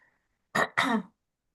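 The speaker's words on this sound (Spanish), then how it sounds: "Les aviso que tengo una tosecita rara" A short throat clearing followed immediately by a cough, two close bursts in an otherwise quiet moment, no talking.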